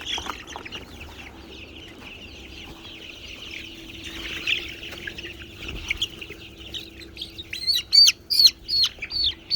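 Eighteen-day-old broiler chickens on a poultry farm make faint scattered chirps over a steady low hum, building to a run of loud, close, rhythmic peeps near the end.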